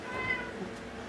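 A mother cat and her roughly four-week-old kittens meow in a cat room, a short, close, high-pitched meow standing out over a faint background.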